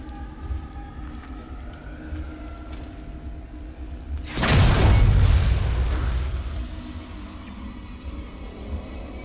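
A flashbang grenade going off in Alien: Isolation: a single loud bursting blast with a ringing, rumbling tail that fades over several seconds against a low ambient drone.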